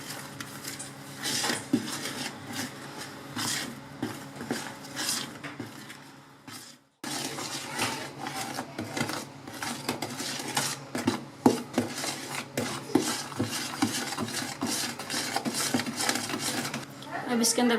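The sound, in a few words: mixing marble cake batter in a bowl in circles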